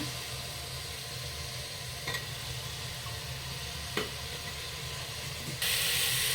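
Cut jackfruit pieces for jackfruit biryani hiss and sizzle steadily in a hot frying pan, a continuous close frying noise with a few faint knocks, rising slightly louder near the end.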